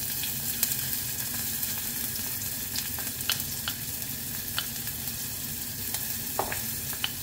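Onions sauté in hot oil in a pan, a continuous bright sizzle with occasional crackles and light stirring clicks, close and alone without voices.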